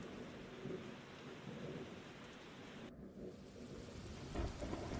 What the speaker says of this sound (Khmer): ភ្លៀងថ្ងៃនេះ ដូចរៀងចម្លែកណាស់